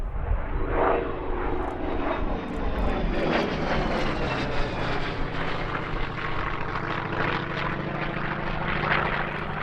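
A propeller aircraft roars past at an airshow at Duxford, its engine drone loud and steady with a sweeping pitch shift as it passes, filling the whole stretch without talk.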